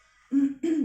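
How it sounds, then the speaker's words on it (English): Two owl hoots, low and clear, one right after the other. They are close and stand alone against quiet. "Sorry about the birds."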